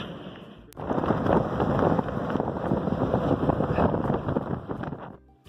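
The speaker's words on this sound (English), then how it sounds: "I bet it wouldn't be so windy in this desert if they turned all these fans off." Strong wind buffets the microphone in a loud, rough roar that rises abruptly and holds for several seconds before fading.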